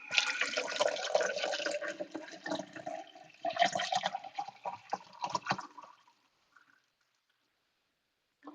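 Water pours into a cup in a close, gurgling stream that runs for several seconds, breaks into a few splashy bursts and then stops into quiet.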